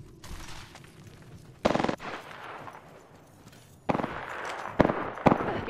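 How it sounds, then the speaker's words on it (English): Gunfire in the Apex Legends battle royale, sharp loud bursts of shots cracking in separate clusters against quieter background game noise, the later shots coming in a quick string. "Getting shot."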